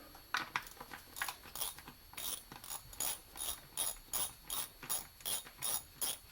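A ratchet working a 10 mm bolt behind the power steering reservoir of a 9th-gen Impala with a 3.6 LFX engine, a steady run of quick, close clicking strokes at moderate level.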